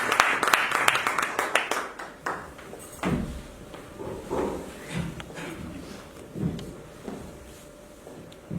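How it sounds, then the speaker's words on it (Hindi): Applause welcomes a speaker to the stage at a Hindi tribute evening honouring martyrs: a dense burst of clapping at the start that quickly thins out, leaving scattered claps under a voice over a PA. "एक बार जोरदार तालियों से इनका स्वागत करें।"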